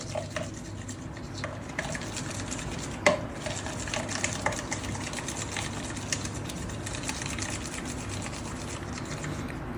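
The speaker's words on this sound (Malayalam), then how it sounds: "നല്ലോണം മിക്സ് ചെയ്യുക" Spices and yogurt marinade being mixed in a bowl for a restaurant-style chicken tawa, a steady dense scraping and stirring churn with a few louder clinks, close, no voice.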